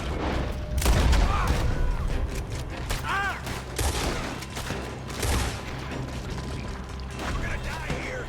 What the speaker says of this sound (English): Why they shooting? Because we got caught.